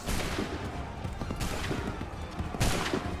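Musket volleys in Assassin's Creed III crash out in three loud, dense bursts about a second apart, each a rolling roar of overlapping shots over continuous battle din, with no talking.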